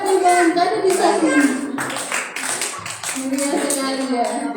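An audience claps at an organisation's upgrading and inauguration ceremony, a steady patter of many hands running throughout, mixed with talking voices that briefly drop before the clapping and chatter carry on.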